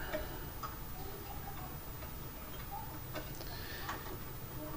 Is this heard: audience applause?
no